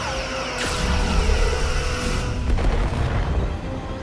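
Starship weapons fire at an enemy vessel in the Star Trek: Resurgence game, with booming energy blasts and whooshing discharges, two sharp onsets over a dense rumbling battle background, loud and close.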